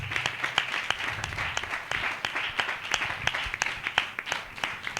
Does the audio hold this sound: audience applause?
yes